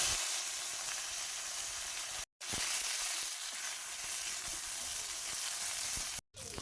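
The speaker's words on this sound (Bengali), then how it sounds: "ভালোভাবে ভেজে নিয়েছি পাতাগুলো।" Chopped leaves sizzle in oil in a wok for a vegetarian taro root dish, a steady close frying hiss broken by two brief silent gaps, with no talking.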